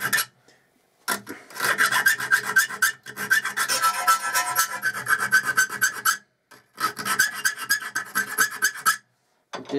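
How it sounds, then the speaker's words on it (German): A thin hand file deburring metal held in a vise, close and loud rasping in rapid back-and-forth strokes, working in bursts separated by brief pauses. "Da habe ich jetzt eine ganz dünne Feile und mit der kann ich jetzt da sauber das ein bisschen entgraten."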